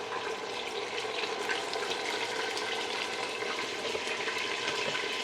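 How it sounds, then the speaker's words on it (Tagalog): Food frying in a pan gives a steady, moderately quiet sizzle and crackle that holds evenly throughout, with no voices. "Iprito na lang natin to lahat para matapos na to."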